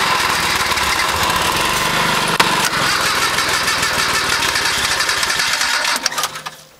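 Small engine with a flooding carburettor and a weak battery labours to start, a steady buzzing, sputtering drone close by that runs for several seconds, then dies away.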